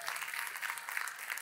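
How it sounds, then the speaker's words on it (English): A roomful of people at a real estate event clapping as a thank-you, a soft steady wash of applause that sounds somewhat distant and faint. "Could we give all of them just a giant round of applause as a thank you?"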